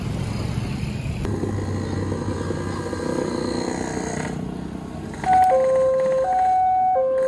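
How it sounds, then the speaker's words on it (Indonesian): Level crossing siren at a railway crossing in Cicurug, Sukabumi, switching on partway through: a loud, steady two-tone electronic wail alternating between pitches, rising above rumbling traffic and engine noise, with no talking. "Sirine sudah berbunyi."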